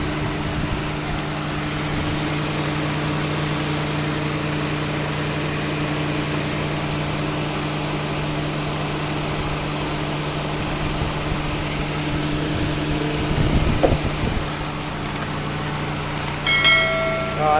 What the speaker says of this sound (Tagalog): So antayin natin na mag-engage yung ating compressor.